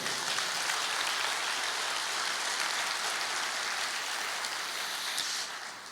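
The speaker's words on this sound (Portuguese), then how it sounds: "Você pode aplaudir o Senhor, meu querido?" A church congregation claps during a sermon, a dense, even patter that holds steady at moderate distance, then tapers off near the end.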